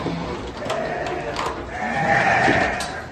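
Bandur sheep bleat in a pen, several overlapping calls close by with a louder, drawn-out bleat toward the end amid background murmur.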